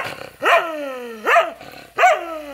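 A dog barks on command in three loud, separate, close barks at roughly even intervals, each with a rising then falling pitch, with no talking.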